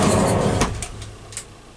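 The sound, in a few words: Japanese sliding door with soft-close receiver sliding shut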